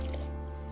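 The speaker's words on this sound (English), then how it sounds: "We are going to pour in the milk" Milk poured into rum cake batter in a home kitchen, giving a short, steady liquid pour with a soft wet squish, close and alone, lasting under a second.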